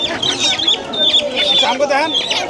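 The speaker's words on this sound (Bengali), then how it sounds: "এই যে দুটা এক জোড়া মোরগ মুরগি" Rooster and hen clucking at a busy Bangladeshi village livestock market, close and fairly loud amid crowd chatter, with repeated short calls throughout.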